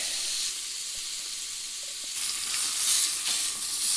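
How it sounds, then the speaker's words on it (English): Trout sears in browning, nearly burning butter in a pan at a wilderness campsite, giving a continuous loud sizzle and hiss that swells stronger partway through, with no voices. "Ooh, my butter's already starting to burn. That's all right. It'll give it a nice sear."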